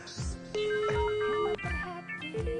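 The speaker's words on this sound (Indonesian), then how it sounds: "Itu suara HP lu yang bunyi?" A mobile phone rings with a repeating electronic melody of short tonal notes, heard fairly close in an indoor scene with percussive music-like beats underneath.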